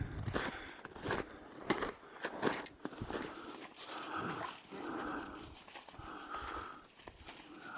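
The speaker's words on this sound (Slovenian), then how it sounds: "Neumorni kužki." Dogs pant, sniff and shuffle close by on a snowy mountain hike from Mala Lazna toward Golaki, their quick, breathy puffs and soft footfalls in snow repeating steadily with no talking.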